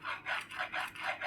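Knife cutting through dough into four pieces for a ratatouille tart, heard as a series of soft rasping strokes repeating steadily at close range with no talking.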